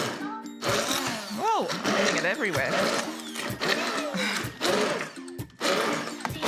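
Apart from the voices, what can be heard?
hand blender mashing refried beans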